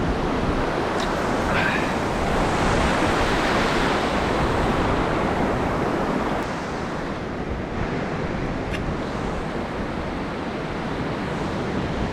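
Waves breaking continuously along a UK sea-fishing beach, a loud, dense roar of surf close by with wind buffeting the microphone throughout.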